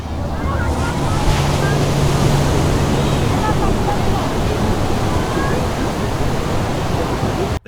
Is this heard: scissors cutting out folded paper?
no